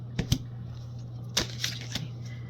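Tarot cards being handled and shuffled, a few sharp papery flicks and rustles, close and fairly quiet, spaced irregularly over a low steady hum.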